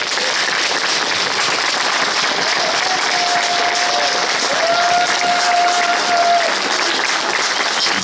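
Loud, sustained applause from a large crowd, dense and even throughout, with a faint whistle-like tone rising briefly in the middle.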